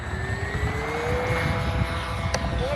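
A Dynam Tucano radio-controlled model airplane engine drones steadily with a rising whine as it passes, under continuous rumble of strong wind and without talk.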